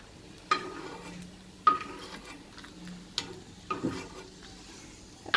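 Cashews and almonds fry in a pan for sabudana kheer, with a soft, low sizzle broken by several sharp clinks and scrapes of a spoon against the pan.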